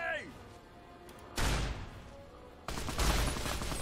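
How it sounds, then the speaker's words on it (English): In the video game Fallout, heavy machine gun fire arrives as two loud bursts of rapid gunfire, each a few seconds apart, cutting through low background game noise. "Oh, you have a heavy machine gun, don't ya?"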